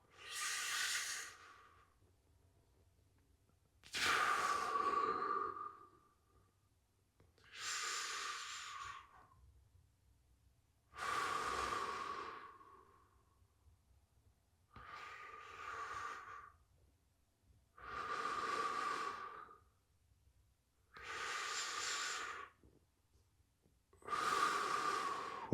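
Deep workout breathing, slow and close, alternating long hissing inhales and exhales in eight regular surges separated by short quiet pauses, with no talking.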